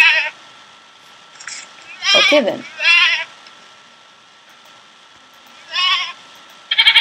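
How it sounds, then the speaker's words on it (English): A goat from the Minecraft Mo' Creatures mod bleating several times, short wavering nasal cries in two groups, close and clear, with someone briefly speaking between them. "Now, let's spawn in a goat."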